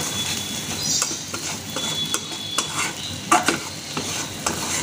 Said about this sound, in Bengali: উনি কন্টিনিউয়াসলি নাড়িয়েই যাচ্ছে।